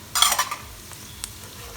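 Colored bell peppers tossed into a hot pan for seafood paella give a brief burst of sizzling and stirring scrapes, then quieter pan noise with a couple of faint clinks.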